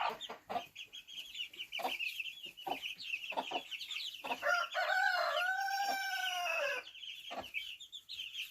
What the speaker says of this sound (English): They'll grow up and be pretty chickens.